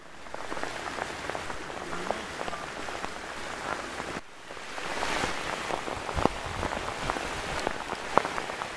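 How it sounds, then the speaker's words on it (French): Dense, heavy rain pouring and drumming on surfaces nearby, a constant hiss with scattered louder drops, no voices. "Eh bien, quelle pluie, les copains"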